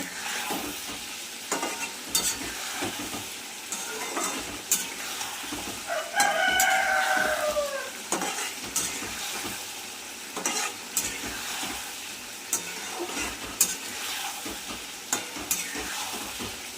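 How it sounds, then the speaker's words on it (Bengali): Potato, pointed gourd and parshe fish sizzle in a pan while a spoon stirs and scrapes in steady clinks and rasps, close and moderately loud, with a rooster crowing briefly in the background and no talk. "ভালো করে কষিয়ে নিতে হবে।"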